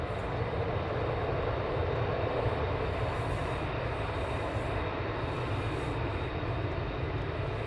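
F-35 fighter jets of the 495th squadron at RAF Lakenheath roar steadily throughout, a loud, continuous broadband jet rumble with no break and no talk.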